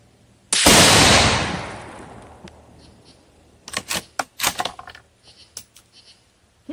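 A Savage Axis II heavy-barrel rifle in 6.5 Creedmoor has its bolt action worked after a loud shot, giving a burst of sharp metallic clicks and clacks close to the listener.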